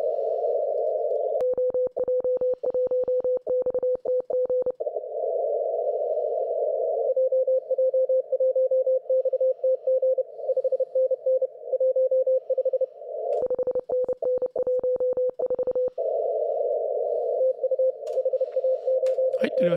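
Morse code amateur radio signals from Europe on 28 MHz during a contest: a steady tone with faster keyed bursts of dits and dahs breaking through at intervals, loud and alone without talk.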